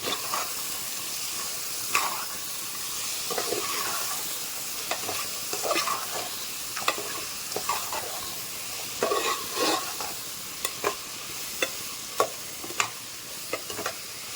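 Vegetable pulao mixture in a pan being stirred with a spoon, with clinking scrapes against soft frying sizzle and hiss, loud and close, no talk.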